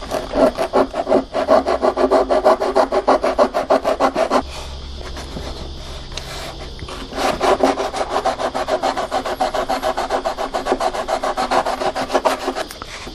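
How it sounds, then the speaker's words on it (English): Sandpaper glued to a wood stick rasps back and forth into a wing joint during a model Dauntless wing repair, loud rhythmic strokes in two bursts separated by a short pause. "I've just used a medium CA to glue this piece of sandpaper onto this stick of wood."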